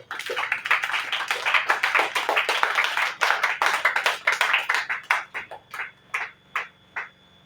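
Congregation at a church service clapping in rhythm, loud dense applause at first, then thinning into slower, separated handclaps that fade toward the end; no talking over it.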